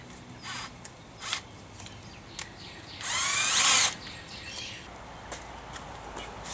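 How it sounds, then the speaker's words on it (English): A small drill drives screws into a replacement door hinge in one loud, close burst of about a second, with faint clicks and handling noises before and after. "Let's pop out to a little small drill."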